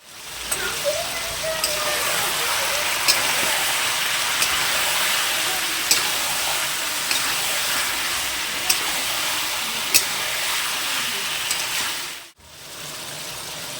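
Chicken curry meat cooking under a lid in a pan, a continuous soft sizzle and bubbling hiss with occasional small pops, fairly close, until a brief dip near the end.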